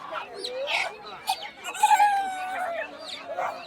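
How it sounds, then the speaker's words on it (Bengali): Desi chickens and roosters for sale at a Bangladeshi poultry market cluck and squawk close by, with a short crowing call among overlapping bird sounds. "আর যেখানে দেখতে পাচ্ছেন বিভিন্ন ধরনের মুরগিগুলো বিক্রি হচ্ছে।"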